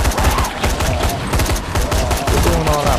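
Rapid gunfire in the zombie video game Dying Light, a loud dense burst of shots in quick succession throughout.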